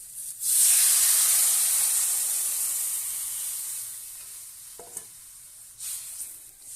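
A spiced fish curry mixture of rohu with potato, bori and kohlrabi, salt, turmeric and cumin powder fries in a pan, a loud hissing sizzle that bursts up and slowly fades, with a couple of brief stirring clatters.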